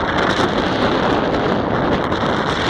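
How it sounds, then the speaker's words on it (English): Steady, loud wind buffeting a microphone, a constant low rumbling roar with no speech. "I'm always practicing in the wind. It's always windy."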